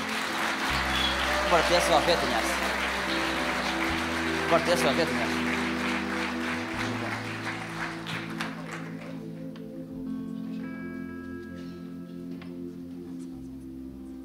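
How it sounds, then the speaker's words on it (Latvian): A church congregation applauds its team at a 10th anniversary celebration, with steady clapping that builds and then fades as a person speaks over it and music plays underneath. "Vēlreiz varam dot komandai aplausus."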